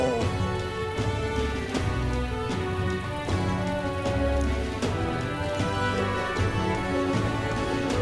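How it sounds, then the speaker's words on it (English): Steady rain falls in the video game Metaphor: ReFantazio, a dense constant patter mixed under background music throughout. "Oh, I hate the rain."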